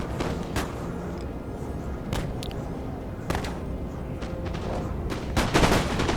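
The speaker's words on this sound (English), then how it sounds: "They're kind of doing somewhat of volley fire." Musket volley fire in Napoleon Total War during the Battle of Borodino: ragged bursts of gunshots crack out at irregular intervals over a constant battlefield din, loud and dense, with no talking.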